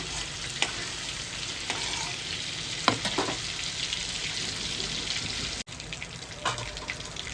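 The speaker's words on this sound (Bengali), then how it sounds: "আর ভাজবো না আমি বেশি, চিংড়ি মাছটা ভাজলে না শক্ত হয়ে যায়।" Prawns fry lightly in oil with a soft, steady sizzle, punctuated by a few quiet clicks and taps from stirring nearby, without any speech.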